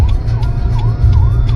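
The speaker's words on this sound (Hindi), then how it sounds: "पीछे शायद एम्बुलेंस आ रही है" An ambulance siren wails loudly in repeating up-and-down sweeps behind a car on the road during a trip toward Rishikesh, over steady engine and road rumble, with no talk.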